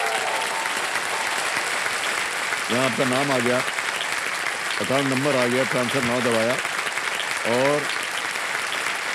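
A studio audience on a TV quiz show applauds continuously, a broad steady roar of clapping that runs beneath a male host who keeps talking, with his voice clearly on top.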